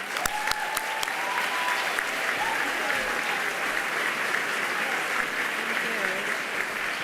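A large hall audience bursts into sustained applause for Janine Tesori at a Barnard gala, dense steady clapping at even loudness throughout, with a few sharper claps near the start.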